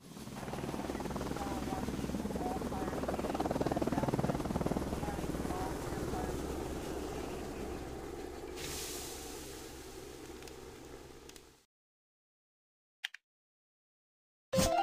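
A firefighting helicopter's steady rotor drone and engine whine fill the first eleven seconds at a loud, constant level, then cut out into silence broken by brief clicks.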